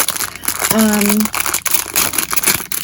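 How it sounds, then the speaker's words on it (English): Plastic packaging from an AliExpress craft supply haul crinkles close by in quick, rustling bursts while someone talks over it. "Excuse the crinkling."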